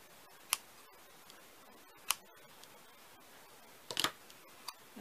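Scissors snip ribbon trimmed down for a bow on an embossed handmade card, giving a few sharp, close, quiet clicks spaced out against a near-silent room, with a small cluster of cuts toward the end.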